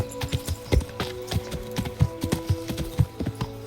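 Horse hooves clip-clop at a steady walking rhythm in the medieval video game Kingdom Come: Deliverance, a series of close, distinct thuds over a low ambient game soundtrack.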